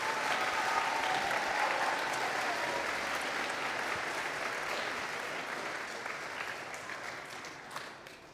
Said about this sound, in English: If we can give them a round of applause again.